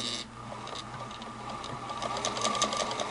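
A Singer 221 Featherweight sewing machine runs steadily on its motor with a continuous mechanical whir and rapid light ticking, close and even throughout with no talk.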